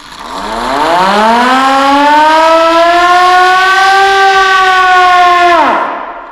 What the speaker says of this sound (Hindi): और ये इमरजेंसी सायरन है।